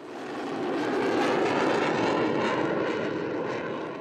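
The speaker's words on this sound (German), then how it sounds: "Die deutschen Tornados haben eine heikle Mission." German Tornado military jet flying, a loud broadband engine roar that swells in over the first half-second, holds steady and strong, then eases slightly as it passes.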